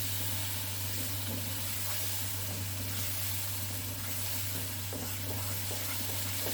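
Banana halwa fries in ghee while being stirred, a continuous soft sizzle and hiss with faint scraping under a steady low hum, no talking.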